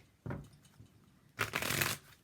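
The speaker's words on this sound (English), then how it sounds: "Shuffle them a little differently." Tarot cards shuffled by hand in two bursts: a short riffle, a pause, then a longer, louder run of crisp card flutter, close up and with no talking.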